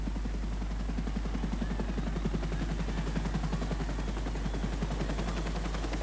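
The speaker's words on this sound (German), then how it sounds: "als der Hubschrauber des Papstes zur Messe einschwebte" The Pope's helicopter flying in to land for an outdoor mass at a racecourse on a rainy day, a steady rapid rotor chop heard continuously at moderate distance.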